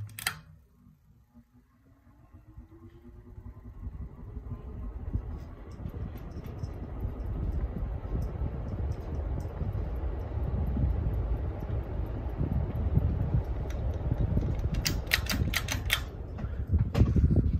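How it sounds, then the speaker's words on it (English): An Emerson 1895 Series ceiling fan starts up from a faint beginning, its whir and rumble swelling into a steady broadband drone with light ticking and clicking near the end, close and alone. "about to go on to show you guys the startup noise"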